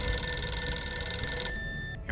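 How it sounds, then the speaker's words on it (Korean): A telephone rings in a film scene, a bright electronic bell tone repeating steadily at moderate level before cutting off near the end. "갑자기 한 박사로부터 전화가 옵니다."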